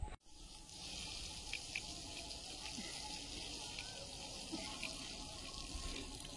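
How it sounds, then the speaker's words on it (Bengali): Water pours steadily over bricks, washing mud off them at a building site. The rushing, splashing flow is continuous and close after a brief knock at the start. "ড্যাম প্রুফটা শুধু এই যে ইট এর ওপর দিয়ে পড়বে, তো কাদাগুলো ধুয়ে দিচ্ছে আয়ুষের বাবা।"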